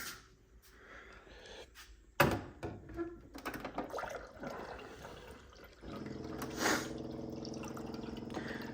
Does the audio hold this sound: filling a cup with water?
yes